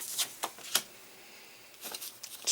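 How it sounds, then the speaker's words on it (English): Warhammer Quest Adventure Card Game cards being shuffled by hand: a few short, quiet papery riffles and snaps, spaced apart with a brief pause before a final cluster, with no talking. "Shuffle 3 open locations together."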